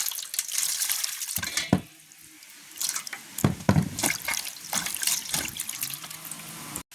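A vegetable is washed by hand in water in a village setting, with close splashing, dripping and sloshing that runs in uneven bursts, a short lull near two seconds, then more vigorous swishing.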